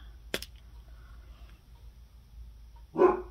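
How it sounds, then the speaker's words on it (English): A dog barks indoors, one sharp bark early and another near the end, loud against a quiet room where someone is gluing Valentine charms. "He always wants to bark when I'm filming."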